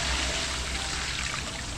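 Water poured into a wok of pancit bihon, a steady broadband rush and trickle, loud and close, lasting under two seconds without talk.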